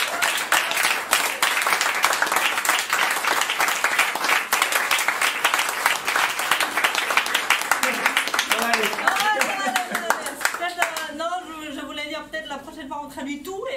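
An audience at a festival closing ceremony applauds in a dense, steady wash of clapping. It thins after about ten seconds as voices and a few chuckles come through.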